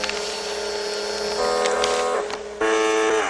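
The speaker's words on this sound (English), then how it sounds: "faxing Marty his official termination, which is printed out on a dot matrix printer" A dot matrix printer prints out a fax, a continuous loud mechanical whine with rising and shifting buzzing tones, briefly pausing before resuming even louder.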